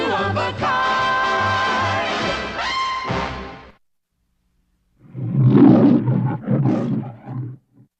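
A man loudly imitates a hungry hippopotamus with a growling, roaring vocal burst lasting a few seconds, following a stretch of music and a short silence.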